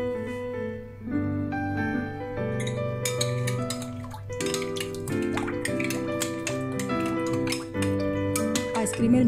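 A spoon clinks and scrapes against a bowl as an ice cream mixture with coconut flesh and grated coconut is stirred, producing bright metallic taps and pings in an irregular rhythm.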